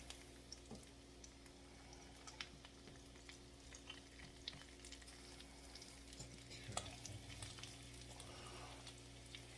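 Olive oil heating in a pan for peanut-coated tilapia gives a faint, steady low sizzle with a constant hum underneath and occasional small crackles.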